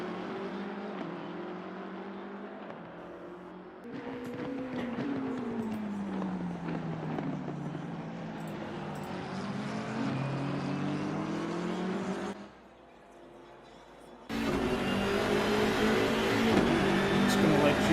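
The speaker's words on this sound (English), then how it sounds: "I'm just going to let you enjoy the engine sound for a moment." GT3 race car engines in a sim racing game at Donington Park whine and rev continuously, pitch rising and falling as they shift gears, with a louder, brighter engine roar near the end.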